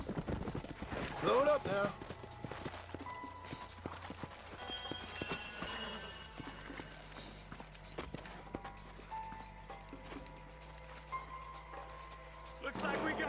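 Horses' hooves in a Western video game, clip-clop footfalls slowing to a halt under a voice, followed by quieter ambient game sounds and a low steady hum, with a few sharp transients later.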